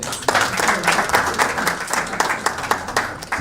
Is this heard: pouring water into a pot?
no